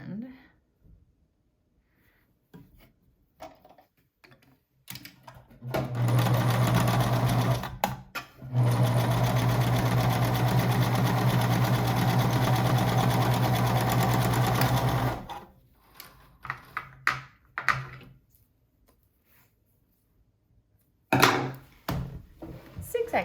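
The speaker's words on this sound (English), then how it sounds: "Zigzag stitch." A sewing machine sews a zigzag stitch on a silk mask in two close, loud continuous bursts with a short break between, framed by quieter handling clicks and bits of talk before and after.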